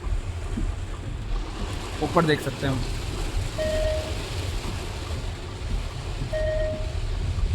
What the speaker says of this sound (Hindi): बारिश ज़बरदस्त है